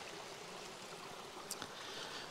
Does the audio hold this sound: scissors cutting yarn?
no